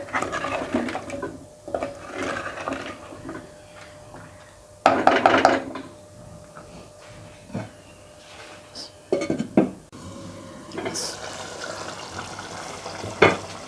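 Spiced masala with onion and tomato puree being stirred in a pot for chicken with arbi, steady low sizzle broken by several louder bursts of scraping and clattering utensil stirring, no talk.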